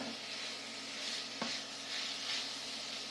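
Collard greens cook in a pan until they wilt, making a soft, steady sizzle with light stirring scrapes and a brief sharp clack midway.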